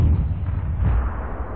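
A tank cannon fires in the video game World of Tanks, producing a loud, deep, rumbling boom that sustains through the short moment with no talk.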